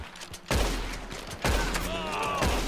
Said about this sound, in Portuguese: Ih, ele tá atirando em mim, pessoal.